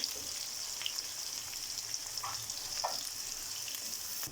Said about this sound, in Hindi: प्याज का कलर चेंज होने तक हम इसे पकाएंगे।